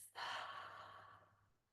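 Deep exhale through the mouth during a yoga breathing exercise, one soft, close breath that starts abruptly and fades away slowly over about a second and a half.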